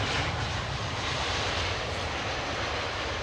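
A Maylift European cargo aircraft, formerly with Virgin, passing at Heathrow, its engines a loud, continuous broadband roar that holds steady across the whole stretch with no voices.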